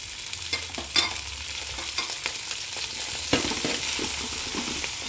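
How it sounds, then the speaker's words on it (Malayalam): Mango ginger pickle mixture with green chillies and curry leaves sautéing in a pan, a steady sizzle with repeated spatula scrapes and stirring knocks, one sharper clack near the start and another midway, no talking. "അതൊന്ന് നന്നായി ഒന്ന് വഴറ്റിയെടുക്കാം."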